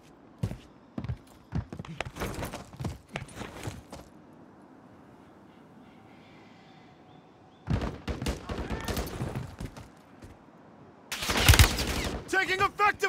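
Gunfire in Call of Duty Modern Warfare 3 rings out in loud, close bursts and rapid volleys, with a quiet lull in the middle before heavier firing resumes.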